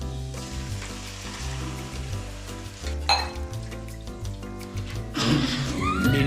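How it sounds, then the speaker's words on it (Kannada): Masala with Kashmiri chilli powder frying in a pan for paneer butter masala, a crackling sizzle under a continuous musical backing, with a metallic stir and clatter midway and a louder burst of spitting near the end. "ಸ್ಪೂನ್ ಕಾಶ್ಮೀರಿ ಚಿಲ್ಲಿ ಪೌಡರ್ ಹಾಕೊಂಡು ಸ್ವಲ್ಪ ಫ್ರೈ ಮಾಡ್ಕೊಳ್ಳೋಣ"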